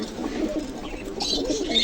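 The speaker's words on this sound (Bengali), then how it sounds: "এখানে আছে এক জোড়া কেডি কুরাত কবুতর" Pigeons coo steadily and close by at a pigeon market in Khulna, their low, throaty calls overlapping in a continuous murmur with no talking.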